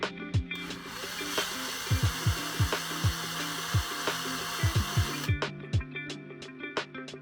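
A small power drill enlarges a hole to 3.5 mm in a homemade aquarium shower pipe, giving a steady close whirring drone for about five seconds, with scraping clicks throughout, before it cuts off.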